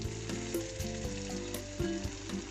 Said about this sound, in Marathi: आपलं तेल गरम झाले, यामध्ये आपण हे वळीव लाडू सोडूया।